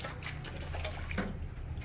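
Water is poured out onto the ground, a continuous close splashing and gurgling stream at moderate volume with no voices.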